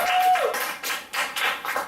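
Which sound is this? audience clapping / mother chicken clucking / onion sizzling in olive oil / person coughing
audience clapping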